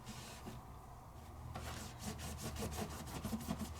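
An embossing folder being rubbed hard produces quiet, rapid scraping strokes that start faint and then become a dense run of rhythmic rasps in the second half.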